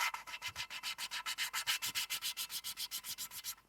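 Engine valve being lapped into its seat with grinding paste, a rapid, rhythmic scratchy rubbing of about six strokes per second, close and steady throughout.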